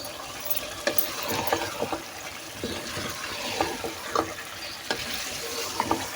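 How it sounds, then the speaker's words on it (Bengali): A spoon stirs beef curry with potatoes in a pot, giving a steady wet scraping and gentle sizzle with scattered soft clacks against the pot, close and moderately loud throughout. "দশ মিনিট হয়ে গেছে এখন একটা নাড়াচড়া দিয়ে দিই"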